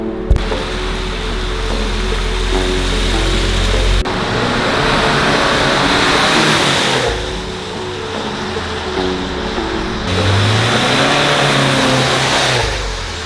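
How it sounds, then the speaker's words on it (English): A turbocharged Subaru WRX engine roars loudly and steadily in a parking lot, revving and accelerating hard through several gear changes with a rising whine, and no voices. "let's kind of like see how this actually sounds when we do a little bit of a pull"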